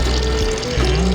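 Water is poured and stirred into a bag holding koi fish, a brief close, steady rush and slosh of liquid with a low hum beneath, no voices.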